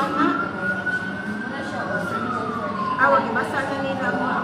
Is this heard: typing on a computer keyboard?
no